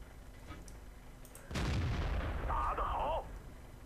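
A single heavy tank cannon shot in World of Tanks, from a Chinese Type 59 medium tank: a sudden loud boom with a broad blast and a rumbling tail that lasts over a second, then fades back to low background hum.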